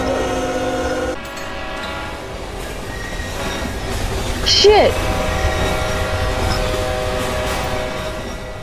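A video-game train rumbles past, steady and loud, with a brief blaring horn midway and a squeal, while a player swears briefly over it.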